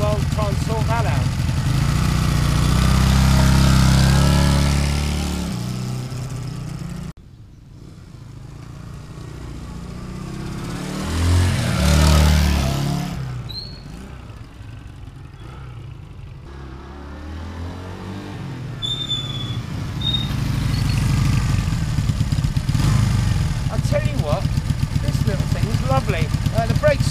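An old motorcycle that had not been ridden for years runs and is ridden up and down, its engine loud nearby, then fading as it moves away and returning before revving close again, with a voice talking at times.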